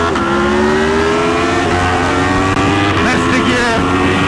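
An Aprilia Tuono and a superbike accelerate hard from a race start, their engines a loud, close, steadily rising whine that climbs through the revs over a constant rush of wind.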